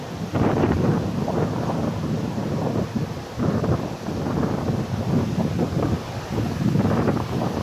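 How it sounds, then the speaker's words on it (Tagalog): Strong gusts on a Boracay Island beach buffet the microphone in loud surges, mixed with the low rumble and wash of rough surf close by. "ang lakas-lakas ng hangin. Tsaka yung alon."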